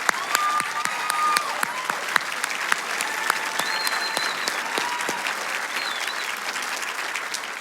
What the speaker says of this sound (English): Let's give them a round warm of applause.